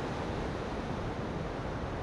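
Ocean swell breaks on a coral barrier reef around a lagoon, giving a steady, dense roar of surf with no distinct single waves and no voices.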